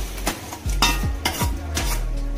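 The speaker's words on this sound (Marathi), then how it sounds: "आता आपण मसाला घालूया, छान मिक्स करून घेऊ।" Pav bhaji vegetables stirred with masala in a pan, giving repeated scraping strokes of a spoon against the pan in a steady rhythm over a faint sizzle, with no talk.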